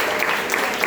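A church congregation claps in a brief, steady burst of applause, dense and close, with no voices over it.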